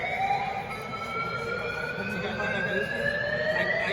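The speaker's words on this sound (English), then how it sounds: "Fire alarm at NEAF." Fire alarm sounding at the NEAF astronomy expo, a steady electronic wail with slowly rising tones that carries on without a break over crowd murmur.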